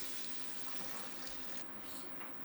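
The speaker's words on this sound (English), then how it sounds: "We add our water." Water pours into a pot of soaked small red beans, a soft continuous splashing rush, close but quiet, with no talking.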